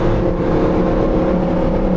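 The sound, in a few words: Lamborghini Huracan STO engine accelerating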